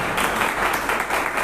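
Church congregation applauding during a Holy Communion worship service, dense continuous clapping from many people, loud and close, with no talk.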